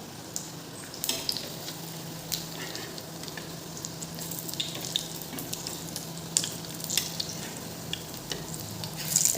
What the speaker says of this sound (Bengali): আমি কাঁকরোলগুলো ভাজা করে নিই।